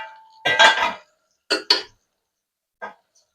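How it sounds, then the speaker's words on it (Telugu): A knife makes small slits in boiled eggs, giving a few sharp clinks and scrapes against a dish or pan, in three short bursts separated by silence, close and fairly loud. "దీంట్లో నైఫ్తో చిన్నగా 4 ఘాట్లు పెట్టేసి"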